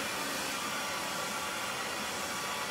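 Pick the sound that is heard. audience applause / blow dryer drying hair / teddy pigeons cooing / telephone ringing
blow dryer drying hair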